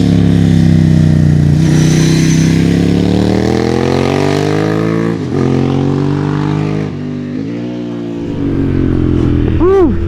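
An old air-cooled Ducati motorcycle engine revs loudly and close, its pitch rising and falling through several gear changes as the bike rides off, with a final rising rev at the end.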